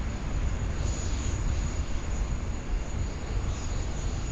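Qantas flight 998, an airliner arriving at Sydney from Hobart, gives off a loud, steady broadband engine roar with a faint high whine, holding constant throughout with no talk.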